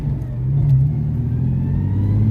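A Jeep Cherokee engine fitted with a swapped manual 5-speed pulls under acceleration, a close, steady low rumble rising slightly in pitch inside the cabin.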